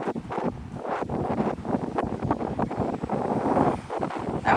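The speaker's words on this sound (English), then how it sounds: "That was some crazy wind." Strong wind buffets the microphone on Santa Rosa Sound near Navarre, Florida, a loud gusting rumble that surges and dips throughout with no voices.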